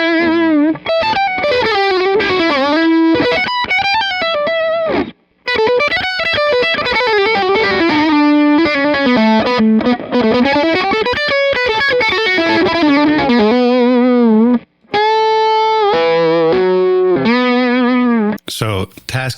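An electric guitar plays a distorted lead line through an EHX Silencer noise gate pedal, with sustained bending notes and quick phrases, and brief gaps where the gate cuts the sound to near silence.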